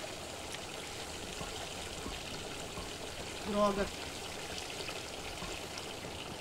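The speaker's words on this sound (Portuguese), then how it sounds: "Ah, meu Deus do céu, essa água desperdiçando aqui." Running water left flowing in a bathroom in the Brazilian horror video game Fobia: St Dinfna Hotel, a steady soft trickling stream throughout, with a brief spoken word midway.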